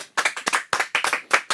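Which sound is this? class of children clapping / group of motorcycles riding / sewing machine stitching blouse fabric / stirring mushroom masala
class of children clapping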